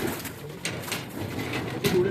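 Pigeons from a flock of Joker-breed domestic pigeons, kept by a pigeon fancier in Beed, fly and coo outdoors. Their bird sounds run steadily over ambient noise, with a louder burst near the end.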